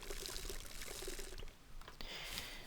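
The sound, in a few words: water being poured in the video game Scum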